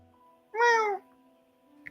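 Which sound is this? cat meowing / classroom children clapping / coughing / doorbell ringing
cat meowing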